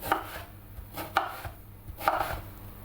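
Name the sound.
knife chopping vegetables into cubes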